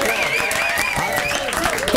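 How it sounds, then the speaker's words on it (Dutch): A studio audience at a live radio show applauds after a live song performance, clapping loud and continuous with voices talking over it and a tonal musical sound lingering. "Het applaus is bijna te heftig"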